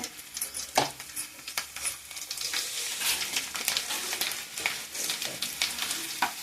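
Garlic and cumin fry in hot oil in a pan with a bright, continuous sizzle and crackle, broken by frequent sharp pops and spatters close by; no talking.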